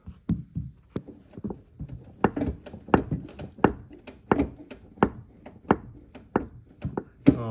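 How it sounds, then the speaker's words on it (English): Sharp metallic knocks repeat irregularly, close by, some louder than others, as a loose nut on a Grand Caravan rattles against the strut plate while the vehicle is rocked. "that nut is bouncing off the top of the strut plate making our noise"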